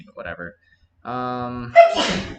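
A single sharp sneeze bursts out near the end, close and loud, following a stretch of talking and a sustained tonal voice sound.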